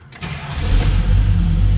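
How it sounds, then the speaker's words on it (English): A 1970 Plymouth GTX engine cranks and catches almost at once, then settles into a loud, deep rumbling idle close by. "All right, let's fire this car up."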